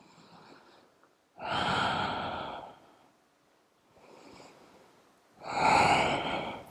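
Slow, deliberate yoga breathing alternates between softer and louder breaths, with two long, strong exhalations standing out clearly against near silence.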